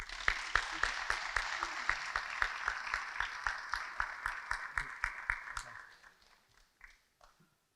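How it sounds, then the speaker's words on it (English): Ceremony audience at a fire department awards event clapping for homeowners association presidents, sharp individual claps over a crowd wash that fades out near the end, leaving a few last scattered claps. "Please, a round of applause for them."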